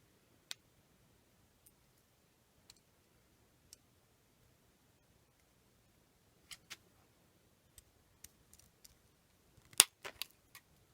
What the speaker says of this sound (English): and you can actually cut the wires.